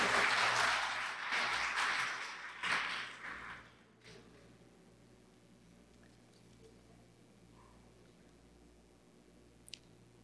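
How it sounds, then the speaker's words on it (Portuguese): Audience applause fills a hall at the launch of an education department's integrity plan, loud and dense for about four seconds before abruptly dying away to a quiet room. "Mais uma vez, uma calorosa salva de palmas para esse momento ímpar"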